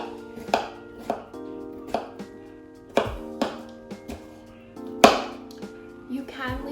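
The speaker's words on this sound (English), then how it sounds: "Just chop the rest up." A knife chopping peeled cucumber on a cutting board for tzatziki dip: a dozen or so crisp, close taps at an uneven, unhurried rhythm over a steady low hum.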